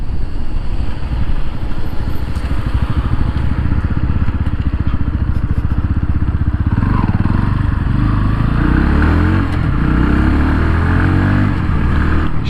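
A Bajaj Pulsar 160 motorcycle engine runs hard and close, a steady loud buzzing drone that holds high revs against the rev limiter, cutting out before 10,000 rpm, with a rough, slightly shifting tone.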